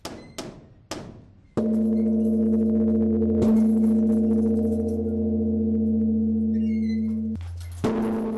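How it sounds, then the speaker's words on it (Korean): A Korean Buddhist temple bell (beomjong) rings with a long, steady, humming tone that is struck again midway and near the end, after a few short sharp strikes at the start. "산 아래 모든 중생들을 깨우는 범종."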